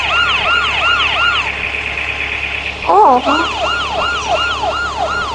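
An ambulance siren in the Roblox video game wails in repeated rising and falling sweeps, loud and close, with a brief burst of voice partway through before the wailing resumes.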